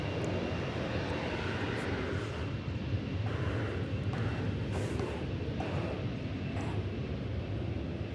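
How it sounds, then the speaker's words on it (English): Airbus A321 jet of American Flight 2379 at Dallas Fort Worth airport, a distant steady airliner engine roar, faint and broad, continuous without voices. "It's an Airbus A321."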